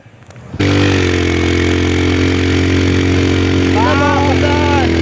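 A motorcycle on a rural road to Ciptagelar, Sukabumi, straining under load: its engine starts abruptly and then holds a loud, steady droning hum close by, with a voice briefly rising over it near the end.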